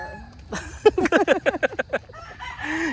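A Sweater gamecock rooster at a gamefowl farm in Maragondon, Cavite, lets out a close, loud burst of rapid, pulsing crowing calls that fade out into a softer trailing note.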